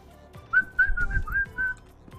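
A person whistles a short melody of about six clear sustained notes, close and fairly soft, with faint background noise and no talking.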